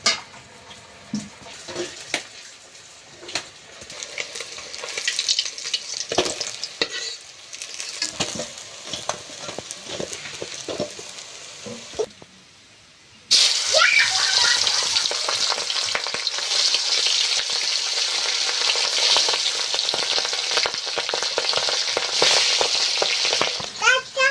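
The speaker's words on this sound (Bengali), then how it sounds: "মাছ ভাজা হয়ে গিয়েছে এবার কিন্তু তুলে নেবো" Fish, pangas and tengra, crackles and sizzles in hot oil in a home kitchen, soft intermittent spatters at first, then a loud dense frying hiss that fills the rest of the clip.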